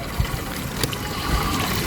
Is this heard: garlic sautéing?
no